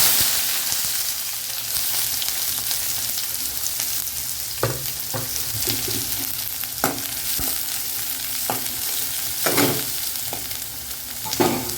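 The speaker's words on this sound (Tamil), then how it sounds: "இது கொஞ்சோண்டு வெங்காயம் வதங்கிறதுக்காக" Ground onion paste sautés in a pan for a spicy mushroom gravy, a steady sizzle broken by several sharp scraping strokes of a spoon against the pan.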